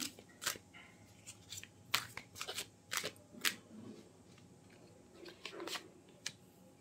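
Tarot cards shuffled by hand in a quiet room, giving a string of crisp, papery riffles and snaps at irregular intervals, near and moderately loud, with no talking.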